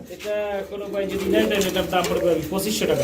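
Pigeons coo in soft, repeated throaty calls close by at a pigeon sale, mixed with someone talking over them.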